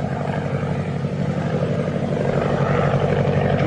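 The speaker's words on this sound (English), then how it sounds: "It's a plane, maybe from 3 Point." A propeller airplane drones steadily overhead at a distance, a continuous low rumbling hum that holds fairly constant throughout with no talk.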